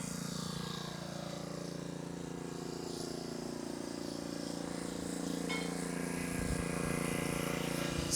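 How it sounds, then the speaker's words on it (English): A generator drones steadily outside a hurricane-damaged seaside inn, a faint, constant background hum with no pauses and a slight swell near the end. "There's a generator running, so you may hear some noise in the background."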